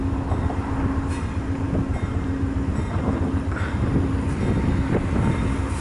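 An eastbound Amtrak passenger train rumbles past steadily, with a broad rail roar and wind noise that hold near-constant for several seconds and no talk.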